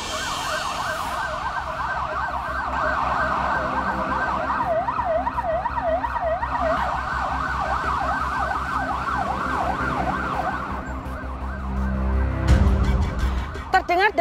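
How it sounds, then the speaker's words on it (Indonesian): A fire truck siren wails in fast, repeating up-and-down sweeps, steady and fairly loud, with a rumbling engine beneath and a louder burst near the end. "suara sirene mobil pemadam kebakaran"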